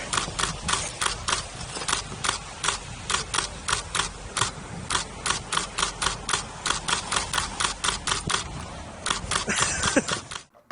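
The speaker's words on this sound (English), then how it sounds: "I'm not sure if I hit the shutter enough times there" Rapid bursts of camera shutter clicks firing in quick repeated runs during an outdoor engagement photo shoot, crisp and close, with a steady low background rumble underneath.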